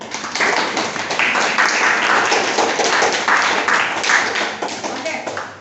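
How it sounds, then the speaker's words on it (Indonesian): A classroom of students applauds after a group presentation: a loud, sustained burst of mixed clapping lasting several seconds, with voices mixed in. "Oke, boleh berikan tepuk tangan."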